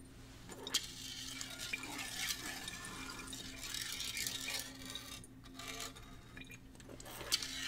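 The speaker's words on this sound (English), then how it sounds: "So I'd like to rinse it like a few times with water." Tap water runs steadily as laboratory glassware is rinsed several times during a KHP titration, a close, continuous splashing and gurgling with no voices.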